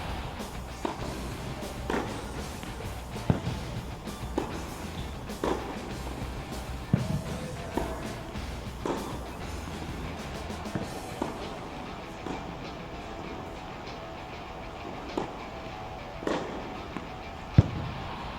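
Tennis balls struck on return of serve during doubles practice on an outdoor court, a series of sharp pops roughly every second or two, moderately close, with faint background noise and no talking.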